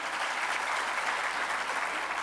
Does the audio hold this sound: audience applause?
yes